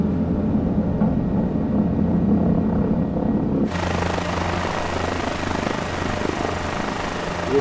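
A helicopter on a tour over Brazilian beaches flies low over treetops, a loud steady rotor and engine drone heard from the cabin that turns brighter and broader partway through, with no talk.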